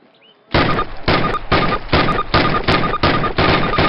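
Call of Duty World War II-era rifle fire during training, a steady series of about eight loud, evenly spaced shots, each with a sharp crack and short reverberant tail, beginning after a brief quiet moment.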